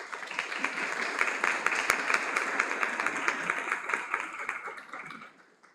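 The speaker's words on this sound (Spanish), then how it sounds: "Un aplauso, por favor." An audience at a university humanities faculty event applauds a speaker being introduced: dense, steady clapping from many hands that holds evenly for several seconds, then tapers off and fades at the end.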